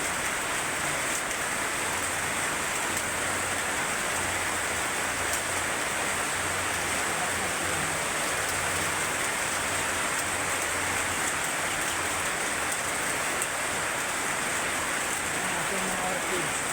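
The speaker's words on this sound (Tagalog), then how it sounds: "Ulan talaga dito sa amin." Heavy rain pours steadily outdoors near a garden with orchids. It makes a loud, unbroken hiss of countless drops on the surfaces around, with a faint low hum underneath.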